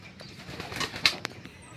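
A racing pigeon arrives home to its loft with a soft flutter of wings and faint cooing, quiet against light outdoor background noise.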